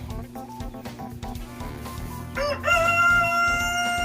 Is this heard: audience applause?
no